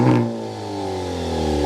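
Maserati Grecale exhaust note, a steady engine drone with rising and falling harmonics, a brief rev at the start, loud and close with no talk.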